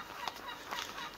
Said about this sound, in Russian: Утки или кто там кудахчет.